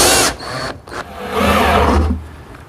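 A power drill drives screws to attach a drawer slide to plywood in a woodworking shop, giving short whirring bursts that rise and stop in close succession.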